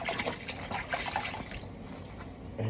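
Water runs through a suction tube as it is washed out, a soft continuous trickle and gurgle at low volume with no talking.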